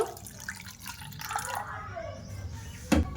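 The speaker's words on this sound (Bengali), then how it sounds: "এবার সুজির মধ্যে আমি জল দিয়ে কিছুক্ষণের জন্য ভিজিয়ে রেখে দেব।" Water poured into a bowl of semolina, a short trickling, dripping pour heard close by under a woman's speech, ending in a brief louder splash.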